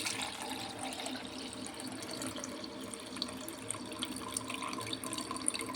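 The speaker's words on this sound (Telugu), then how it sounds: "కడుక్కుంటున్నాం సగ్గుబియ్యంని." Sago pearls are rinsed in water in a kitchen, with soft sloshing and trickling sounds at low volume and no talking.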